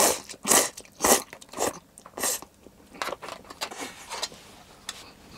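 Biting and crunching into food with hot mustard, eaten inside the cargo area of a parked N-VAN with the engine off: several sharp, close crunchy bites followed by softer, irregular chewing.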